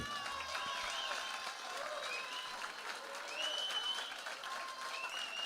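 An audience at a song festival in Bonaire applauds a singer, with clapping and scattered cheers and whoops carrying throughout at a fairly faint, distant level.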